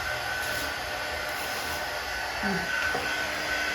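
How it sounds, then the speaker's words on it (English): Heat gun blowing on a suitcase liner, a steady airy whoosh that holds close and even, with faint brief scraping near the end. "So we're going to see if taking a heat gun to this will enable us to remove the liner."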